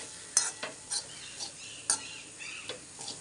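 Breadfruit stir fry being mixed in a pan on a gas flame, soft sizzling punctuated by a series of light, sharp scrapes and taps of a utensil against the pan, close and quiet.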